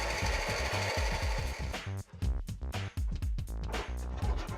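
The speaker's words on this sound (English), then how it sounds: "I used my bandsaw to roughly shape the broomstick" A bandsaw cuts into a wooden broomstick, shaping it roughly, with a loud, steady mechanical drone broken by short pauses and bursts as each cut starts and stops.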